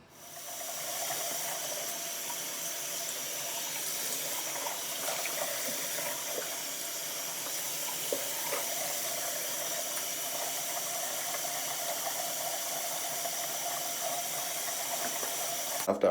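Tap water runs steadily into a bathroom sink during face washing, a continuous hissing splash that lasts throughout, with small shifts in the flow and a few faint knocks near the end.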